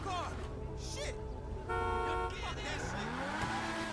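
A Progen GP1 supercar in GTA Online drives with a steady engine drone, a horn toot and tire squeal mixed in, under game music and speech.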